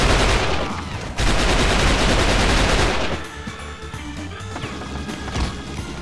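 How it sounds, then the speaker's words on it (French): Dense, loud gunfire erupts from every direction in the video game XIII: a continuous roar of automatic bursts and overlapping shots that thins after a few seconds into scattered cracks and impacts. "ça tire de partout"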